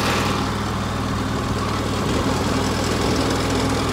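Husqvarna LGT2654 lawn tractor engine idling, a steady, close, low rumbling drone with even vibration and no voices.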